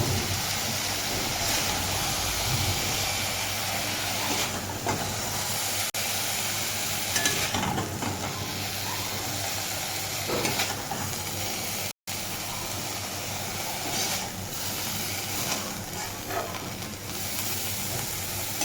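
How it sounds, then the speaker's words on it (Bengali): Catla fish and cauliflower fry side by side in a pan, producing a constant close sizzling hiss with stirring noises and brief louder bursts of spattering oil. "তো এই যে আমরা মাছ ভাজার পাশে ফুলকপিটা ভাজাটা নামিয়ে নিলাম"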